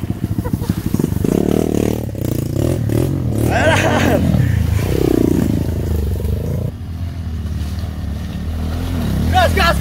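A trail motorcycle engine revs hard and rises and falls while climbing the steep Bukit Parai hill in Bangka during an off-road adventure ride, loud and close, with clattering and scraping as the bike works upward.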